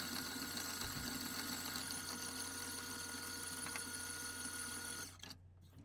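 An electric mixer creams butter and sugar for cookie dough with a steady, even motor whir that runs continuously, then cuts off near the end.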